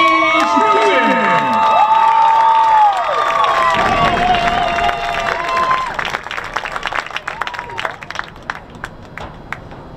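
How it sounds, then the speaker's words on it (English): A crowd at a girls' lacrosse all-star game cheers and claps for the all-state players, loud shouts and whistles giving way to sustained applause. "Please give one more round of applause for all our first team All-State selections."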